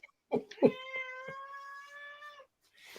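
A cat meows once in a long, drawn-out, plaintive call lasting about two seconds, close and clear, preceded by a couple of soft knocks.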